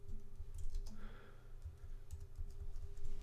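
Someone types on a computer keyboard in short, uneven bursts of clicking keystrokes, near and fairly quiet, over a low steady hum with no talking.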